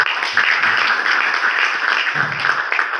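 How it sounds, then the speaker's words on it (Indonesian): Applause from a school ceremony audience clapping for the teachers, a steady dense crowd clapping that fills the whole stretch at even loudness. "Kita tepuk tangan dulu untuk mereka."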